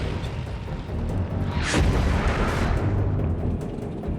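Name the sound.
tank cannon fire from Ghost Troop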